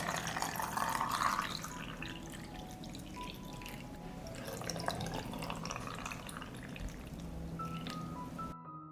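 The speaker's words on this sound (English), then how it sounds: "I pour water into the jar to cover the strawberries." Water pours steadily into a glass jar of fresh strawberries, a continuous trickling and splashing with small drips, close and fairly quiet, then stopping at the end.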